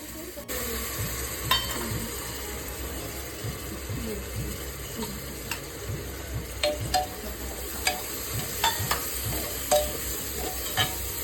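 Handful of mint leaves being stirred and sautéed in a pan for biryani, a steady sizzle with repeated scraping clicks of a spoon against the pan.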